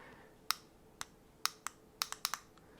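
A large plastic button is clicked eight times, each press a sharp, crisp click, irregularly spaced with a couple in quick succession, alone in a quiet room.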